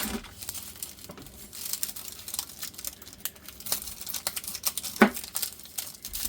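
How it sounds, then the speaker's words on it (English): Irregular sharp taps and crunches as a knife cuts onions on a board, some strokes louder than others, close by and quiet, with no talking. "I'm going to go ahead and cut these onions up"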